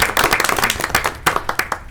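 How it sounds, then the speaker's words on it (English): Brief burst of hand clapping from an audience at a commissioners' meeting, a short ragged round of applause from a modest group, fairly close and without talk. "that's something that we just all need to give a round of applause for"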